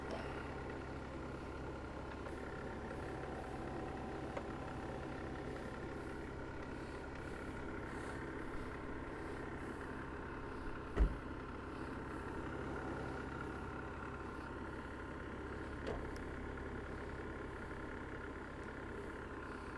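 A vehicle engine idles steadily in neutral during an off-road recovery, a faint low hum throughout with a single sharp knock partway through.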